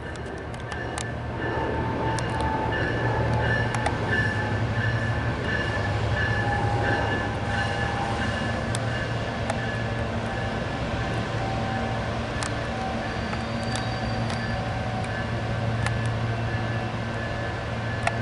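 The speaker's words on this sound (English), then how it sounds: "I'm going to leave you with a departing train towards the airport." An RTD commuter train pulls out of the 61st & Pena Boulevard rail station toward the airport, a steady, loud rumble with a low electric hum and faint squeals and clicks running throughout.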